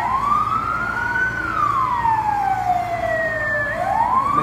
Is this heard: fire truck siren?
yes